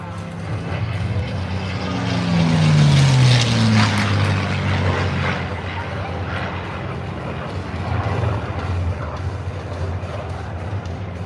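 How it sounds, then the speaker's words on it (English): Vintage warbird propeller aircraft from a collection fly past at an outdoor air show, a droning engine roar swelling with falling pitch as they pass, then a steady distant rumble. "Make sure to get your cameras ready as these iconic vintage aircraft approach show center."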